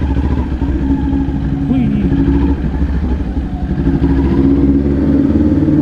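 Kawasaki Ninja 400 motorcycle ridden at night, a steady, close mid-pitched engine drone with faint rumbling changes in pitch and some background clatter.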